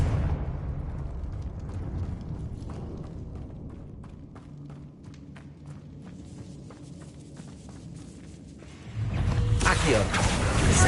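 A Confringo blasting spell in a Hogwarts video game ends in a sudden, loud fiery explosion after a stretch of quiet rumbling and light clicks.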